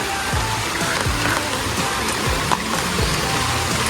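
Steady rain falls outdoors at a house construction site, a dense, even hiss with scattered drops and light thumps close by.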